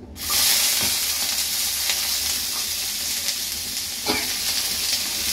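Potatoes drop into very hot oil in a pan, setting off a loud, sustained sizzle and hiss that stays steady throughout, with a few faint stirring clicks.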